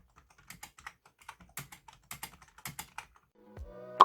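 Fingers tap a Magegee GK710 membrane gaming keyboard in a quiet, irregular run of soft keystrokes close to the microphone, ending in a brief louder thump.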